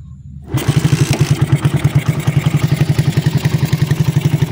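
A Raider 150 motorcycle, just given a carburetor top overhaul, catches after a kick start and settles into a loud, close idle with an even, rapid thumping rhythm.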